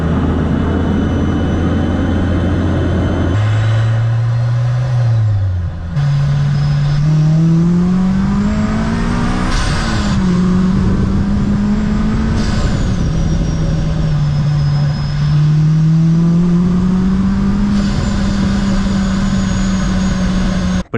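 Honda Civic fitted with a Kraftwerks supercharger, revving repeatedly with a loud, close engine note that climbs and falls, showing a steady supercharger whine above the exhaust and no talking.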